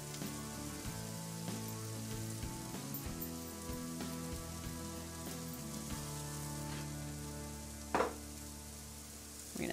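Mushroom pieces with chopped onion frying in a pan, a steady hiss and crackle throughout, close and moderately quiet, with a brief louder stir or clatter near the end.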